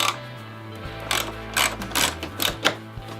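A ratchet wrench backs out cap screws on a Harley-Davidson Road Glide fairing, giving a series of close, quick clicking bursts over a low steady hum.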